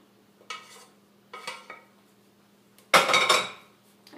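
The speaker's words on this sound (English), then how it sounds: "I'm actually going to add my pasta straight to the sauce and then mix it around in this pan." Cooked pasta goes into tomato sauce and is tossed around in a pan: three separate bursts of scraping and clinking from a utensil against the pan, the last one loudest and longest, close with quiet pauses between.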